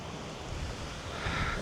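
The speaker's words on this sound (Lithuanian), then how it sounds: "Jūra, paplūdimys." Sea waves washing onto the beach at Hel, a steady, fairly faint surf wash mixed with wind noise on the microphone, with no voices.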